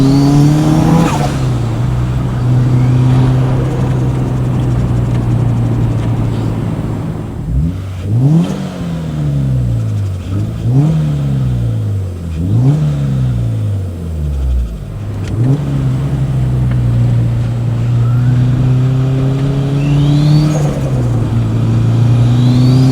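A 500 BHP Subaru Impreza WRX STI with a built 2.1-litre engine pulls hard from inside the cabin, its loud engine note rising and dropping through several quick rev sweeps and gear changes, then holding a steady drone.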